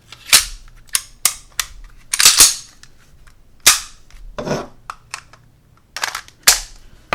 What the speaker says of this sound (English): And then I'll slide this thing back in place.